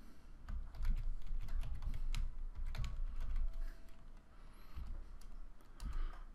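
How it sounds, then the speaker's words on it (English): Fingers type on a computer keyboard in a quiet room, a close run of quick, irregular key clicks with brief pauses between bursts and no voices. "I'm going to just start typing a letter."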